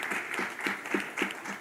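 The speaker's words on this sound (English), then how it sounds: "A round of applause for each one of them." Brief burst of audience applause at a growth and employment summit in Bhubaneswar, dense clapping with a few distinct claps standing out, steady and moderately loud for under two seconds.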